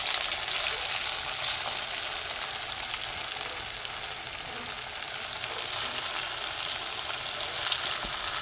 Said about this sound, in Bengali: এইগুলো আমি ভেজে নেব।